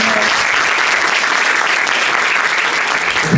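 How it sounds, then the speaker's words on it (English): An audience applauds with dense, steady clapping that continues for several seconds. "Please have a round of applause."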